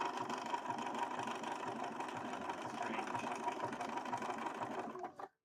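A sewing machine stitches fabric for a Link cosplay costume, a close, steady, rapid mechanical chatter that runs continuously before stopping abruptly at the end.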